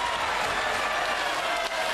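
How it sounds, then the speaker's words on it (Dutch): Steady, dense applause from a carnival parade crowd, loud and continuous throughout with no pauses. "Geef ze een applaus."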